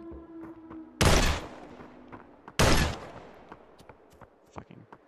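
SMG fire in Fortnite VR comes as two loud, close bursts about a second and a half apart, each with a fading tail, followed by scattered fainter shots and clicks.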